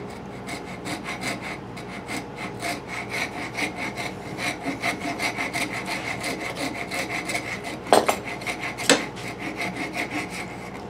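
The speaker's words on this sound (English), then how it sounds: "Remember, make sure you're rasping the right spots." Wood rasp worked back and forth on a pinewood derby car body, a steady train of dense scraping strokes close up, with a couple of sharper knocks near the end.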